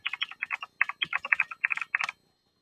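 A library card number being typed on a computer keyboard while signing in to the Libby app: a quick, close run of crisp keystrokes in uneven bursts for about two seconds, then quiet, with no voices.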